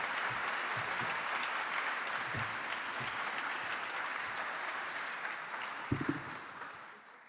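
An audience at a law school 60th anniversary lecture applauds steadily for several seconds to welcome Lord Reed, a dense sustained clapping that fades slightly at the end.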